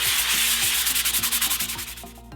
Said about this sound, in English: I've been sanding this for about a few minutes now.